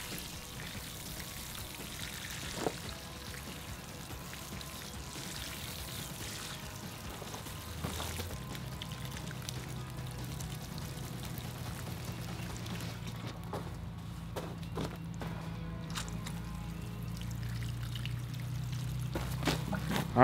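Water and fertilizer solution being poured from a gallon jug for a shrub transplant, a steady continuous pour with a low gurgling rumble that runs the whole time at moderate, close range.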